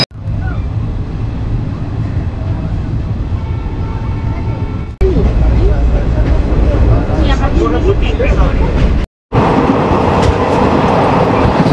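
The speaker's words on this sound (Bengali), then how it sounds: "ট্রেন ঢুকে পড়লো দুর্গাপুর স্টেশন।" The Shaktipunj Express rolls into Durgapur station, a loud continuous rumble with clacking wheels on the rails, briefly cut off once, with a voice and background chatter over the train noise.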